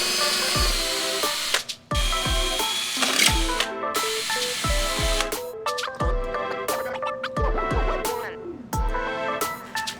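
Power drill boring holes into a wall for a monitor mount, heard as repeated bursts of whirring that rise and drop off every second or so, close and loud, with short gaps between holes.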